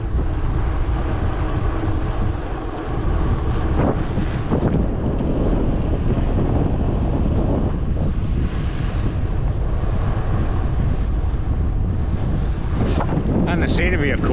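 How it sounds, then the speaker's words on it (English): Wind buffets the microphone on a quiet road in the Scottish Highlands during a bikepacking trip, a loud, constant rumbling roar throughout with a few brief rustles near the end. "A bit of wind, but I don't know if you can hear me"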